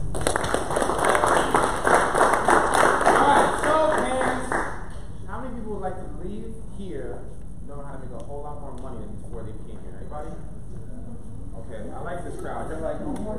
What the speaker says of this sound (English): give a warm round of applause to Bert Gervais